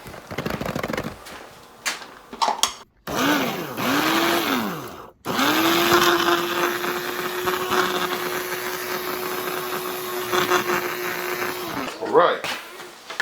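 A blender mills grain to bind cauliflower banku, starting with brief bursts, then running in a long loud steady whir before stopping, with some clattering and speech around it.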